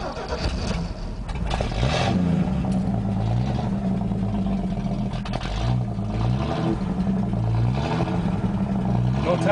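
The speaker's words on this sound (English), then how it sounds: "So I'm just gonna do one last start of the old blue truck." A 1969 GMC truck engine with no muffler cranks and catches, then runs with a loud, rough, throbbing idle and some revving, close by, with a voice briefly audible over it.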